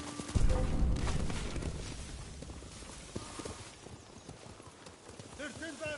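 Samurai horses in Ghost of Tsushima clop and hoofbeat through a raid on a home, loud at first and then fading, with voices and a neigh over the action.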